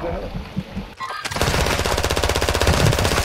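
Rapid machine-gun fire in Warzone 2.0 on Ashika Island, loud and continuous after a brief quieter moment with faint voices, the bursts rattling steadily to the end.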